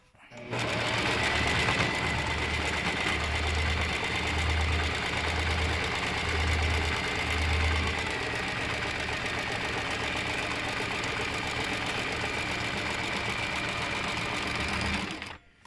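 A sewing machine stitches continuously at an even pace, with a fast, steady mechanical chatter and hum that is close and loud. It runs for the whole stretch and stops abruptly at the end.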